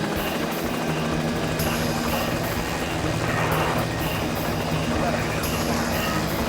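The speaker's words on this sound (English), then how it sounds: "The helicopter has changed the face of news gathering" A news helicopter flies overhead, a steady loud rotor and engine drone running throughout with voices talking over it.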